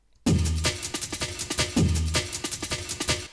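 A bright, fast pitched-up breakbeat sample loop with punchy kicks and snappy snares, played twice in a row at a quick tempo, loud and alone.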